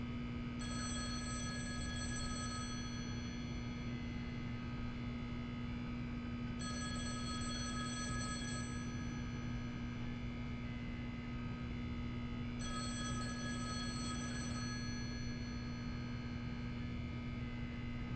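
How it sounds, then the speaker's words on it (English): A telephone rings in The Stanley Parable video game, three evenly spaced bright ringing bursts over a steady low electrical hum, with no talk. "then pick up the phone."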